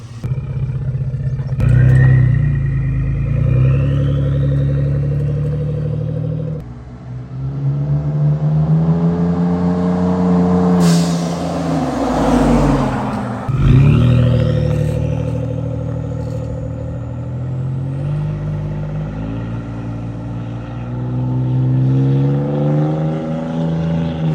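A Ford 3.5 EcoBoost engine fitted with a new full exhaust system, revving repeatedly up and down with a loud, close, throaty roar and whirring turbo tones, with no talking.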